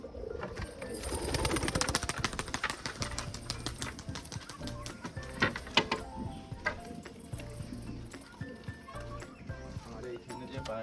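Pigeons at a rooftop loft coo and flutter, with wing claps and scattered pecking and clicking sounds close by. A person talks over them throughout.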